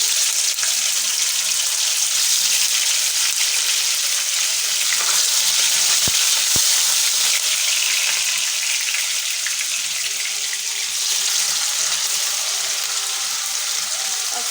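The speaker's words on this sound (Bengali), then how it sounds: "তেলটা গরম হয়ে গেছে এখানে দিয়ে দেব পনির" Paneer cubes, about 300 grams, frying in hot oil give off a steady, loud broadband sizzle that stays dense and continuous throughout, with a couple of brief sharp crackles midway and no talking.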